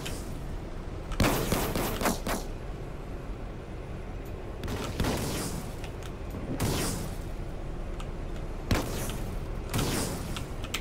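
Loud bursts of tank gunfire in Roblox Armored Patrol come in paired blasts, repeating every few seconds over a constant rumbling engine-like background.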